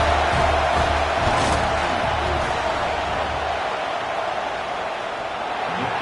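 Loud, dense stadium crowd roar at an NCAA football game as fans make noise during a field goal attempt, a continuous wash of voices and shouting with some talk mixed in.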